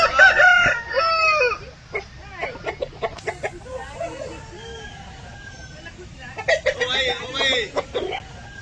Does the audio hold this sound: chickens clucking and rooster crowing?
yes